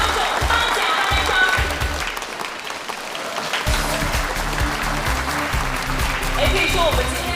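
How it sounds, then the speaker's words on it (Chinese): Audience applause at an award ceremony, a dense crowd clapping loudly and continuously, dipping briefly in the middle before swelling again, with a voice and stage sounds faintly mixed in. "我们以热烈的掌声"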